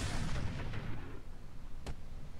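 A Gauss rifle fires in the mech video game Roguetech: a heavy, booming discharge rolls off into a long rumbling decay, then a brief sharp crack follows near the end.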